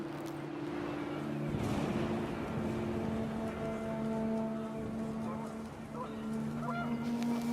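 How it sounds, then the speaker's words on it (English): Panicked geese from the video game Remains of Edith Finch honk in a continuous, overlapping chorus over a steady droning backdrop, with a few louder calls standing out midway. "panicked geese appeared and quickly went"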